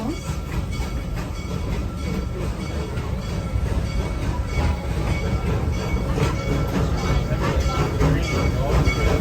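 The Serengeti Express train rolls steadily along its rails with a continuous rumble and faint wheel clatter, loud and near throughout.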